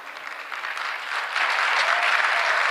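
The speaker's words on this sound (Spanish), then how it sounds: "Si le vale ese aplauso, hágaselo al Señor." Church congregation applauding during a sermon, a dense wash of many hands that builds in strength partway through and holds steady, with no speech over it.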